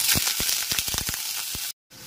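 Cut onion pieces drop into hot tempering oil for a pumpkin and drumstick curry. They give a close, bright sizzle with sharp crackles that cuts off briefly near the end.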